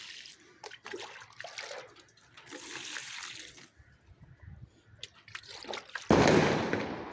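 Organic liquid fertilizer poured onto okra plants in a vegetable garden: quiet trickles and splashes build into a loud, rushing pour near the end.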